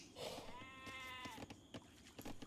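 Sheep bleating in a strategy video game: one clear wavering bleat rises in the foreground, followed by soft clicks and small game effects over a low background.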